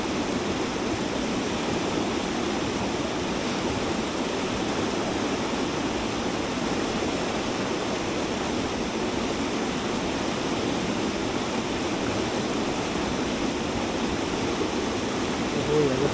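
The Seti river near Pokhara in winter runs with a strong current, a dense, steady rushing roar that stays broad and unchanging throughout.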